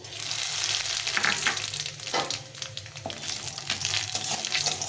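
Dry red chilies, a bay leaf, nigella seeds and radhuni frying in hot oil, a steady close crackling sizzle with occasional stirring scrapes, no voices.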